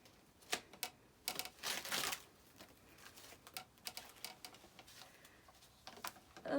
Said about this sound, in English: I'm just going to cut the paper on the back.